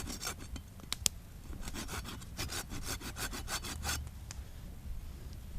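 A hand saw cuts through a wooden pole outdoors in the woods in a run of quick, rhythmic rasping strokes, close and fairly loud, with a couple of sharp clicks early on.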